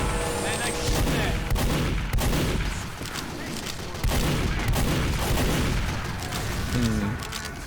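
Dense, continuous gunfire and booming blasts from a Team Fortress 2 match, a busy wash of shots running through the whole stretch with little let-up and a voice faintly beneath it.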